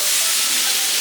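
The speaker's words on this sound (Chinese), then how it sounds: "萝卜稍微翻炒一下" Radish with shiitake mushrooms and dried shrimp being stir-fried in a hot wok, a loud, continuous sizzle and hiss with the scrape of stirring, close up and with no voices.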